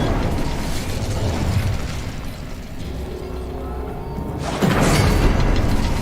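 A fire spell cast in the video game Hogwarts Legacy sets off a loud whooshing burst of flame near the end, rising out of a steady rumbling game ambience.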